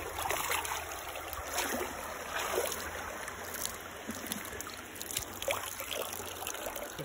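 Cotton undershirt tank top dunked into a stream, with steady trickling and flowing water close by and soft splashes and sloshes over constant high outdoor hiss from insects.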